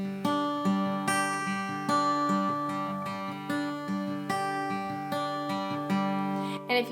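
Acoustic guitar fingerpicking the pattern of a song at full speed, steady rolling plucked notes ringing close and clear with no voices for about seven seconds.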